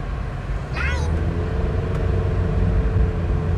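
A 2014 Honda City 1.5 V gives a steady engine rumble as it accelerates, heard from inside the car with a brief higher squeal near the start.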